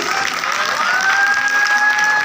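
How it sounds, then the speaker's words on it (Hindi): Audience at an award ceremony clapping steadily and loudly throughout, a dense close wash of applause with a faint sustained tone running underneath. "तालियां हो जाए भाई।"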